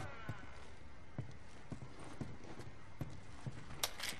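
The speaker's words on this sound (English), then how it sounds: "Oh, look, there's even horses up here." Horse hooves clip-clop in The Last of Us video game, a faint, steady series of hoofbeats at a walking pace under a low ambient background.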